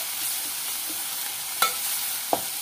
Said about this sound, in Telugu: ఇప్పుడు మనం నేను ఫ్రెష్గా చేసుకున్నానండి అల్లం చిల్లిపాయ పేస్ట్ వేసేస్తున్నాను.